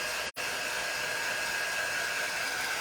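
A hair dryer blows warm air steadily over freshly painted garden flag fabric, a constant close whooshing roar broken only by one very brief cutout near the start.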